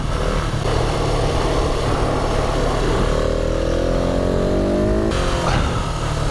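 A 2019 KTM 690 SMC R motorcycle is ridden hard, its loud engine roaring continuously up close, with the pitch climbing under acceleration before shifting.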